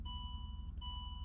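A Land Rover LR3 dashboard chime sounds as the ignition is switched on: a quiet steady electronic tone that breaks off briefly and resumes, over a low rumbling background hum.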